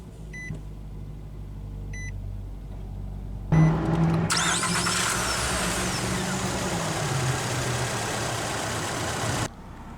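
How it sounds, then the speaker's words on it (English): A 2011 Nissan Altima 2.5 S sedan has its engine started by push button: a few faint chimes, then the starter cranks and the engine catches with a loud flare before settling into a steady idle, which cuts off near the end. "Now that we're behind the wheel, let's go ahead and start the engine."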